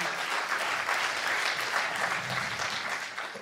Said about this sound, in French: je vous demande d'applaudir Olivier Crouzet.